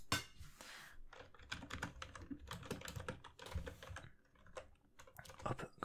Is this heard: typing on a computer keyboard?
yes